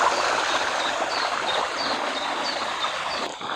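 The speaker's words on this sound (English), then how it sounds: "here we are at the bottom of the waterfall" Garden waterfall splashing steadily into a pond, a continuous broadband rush of falling water heard close and loud with no voices over it.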